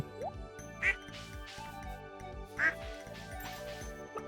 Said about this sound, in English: I think it's just the duck's organic sounds coinciding with when we pet them